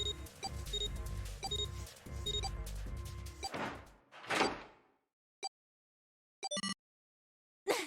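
A door shuts in the Zero Escape: 999 video game: a loud mechanical rumble and clatter builds, then a heavy thud and scrape, followed by a few short isolated knocks in near silence.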